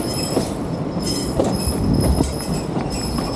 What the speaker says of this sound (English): The locomotive that is pulling our train today is the Georgetown Loop Railroad number 1934.